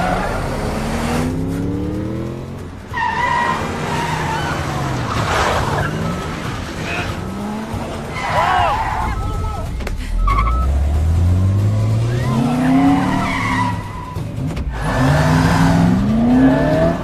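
A car speeds off during a chase scene in an action film, engine revving and rising in pitch with tyre skids, loud and close, while people shout briefly over it.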